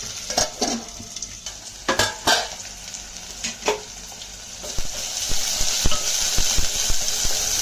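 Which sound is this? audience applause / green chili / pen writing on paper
green chili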